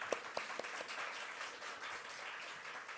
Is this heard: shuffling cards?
no